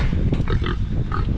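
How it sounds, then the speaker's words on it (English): Hogs being loaded onto a trailer on a farm, with grunting and snorting that is close and continuous over a steady low rumble. "It sounds like most of the hogs have found their way onto the trailer, all but two."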